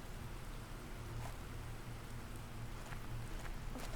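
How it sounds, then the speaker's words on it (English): Rain falls in the video game Planet Crafter, a soft, even patter of drops that holds steady under a low background hum, quiet and without voices. "Planets figured out how to rain."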